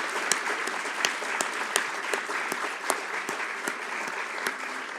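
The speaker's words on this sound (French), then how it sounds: "je pense qu'on peut l'applaudir" Audience at a symposium on herbalism claps steadily, a dense even patter of many hands with sharp individual claps standing out, moderately loud and without speech.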